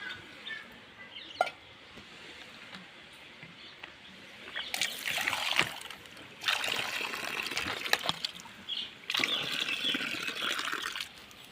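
Water is poured from a hand pump supply onto flowering plants growing in plastic glasses, heard as three separate gushing, trickling pours after a quiet start, with faint background ambience between them.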